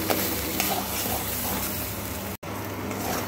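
Mashed dried fish with turmeric and salt is stirred in oil in a pan, making a steady, fairly loud frying hiss with faint stirring scrapes and one brief dropout near the end.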